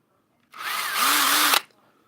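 A power drill boring a hole through wood, one steady burst of about a second with the motor whining up to speed and cutting evenly before stopping abruptly, close and loud with no talk.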